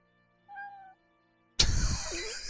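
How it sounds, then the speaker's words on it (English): A cat gives one short, fairly quiet meow, followed after a pause by a sudden loud, noisy burst. "Who brought a feline in?"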